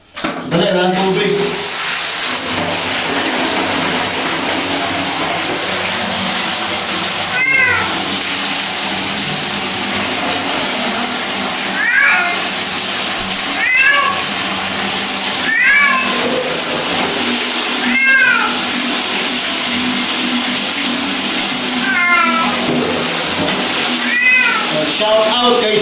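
A pet cat meows repeatedly in short rising cries while being bathed, over steady running or splashing water, with people talking nearby throughout.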